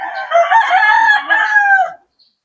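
A gamecock crows loudly and close by in a backyard, one long drawn-out call lasting about two seconds, then quiet.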